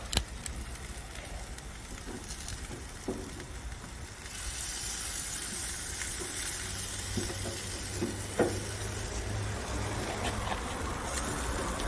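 Beef ribs sizzle on a hot grill just after being flipped, a continuous crackling hiss with a few soft knocks and clicks, growing slightly fuller partway through.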